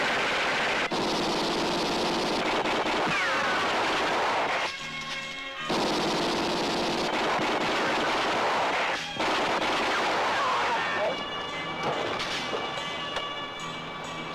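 Bursts of gunfire, including rapid automatic volleys, crack loudly through a Filipino action film scene starring FPJ, with brief gaps of quieter ambience between the firing.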